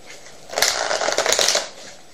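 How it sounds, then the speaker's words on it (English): A deck of cards is riffle-shuffled close by, a quick rapid fluttering burst lasting about a second before settling. "what you do is have the deck shuffled and cut"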